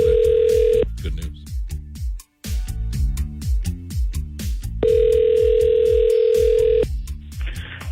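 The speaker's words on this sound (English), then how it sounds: "I'm going to dial the phone." A telephone call from a radio morning show dials out with a rapid series of keypad tones, then a long steady ring tone, more tones, and a second ring, close and loud.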